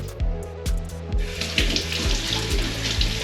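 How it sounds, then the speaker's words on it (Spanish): Kitchen tap water running while a pepper is washed under it, a continuous close splashing stream with brief knocks and handling noises, no talking. "Lo lavamos, le quitamos las pepitas, lo abrimos, lo volvemos a lavar bien"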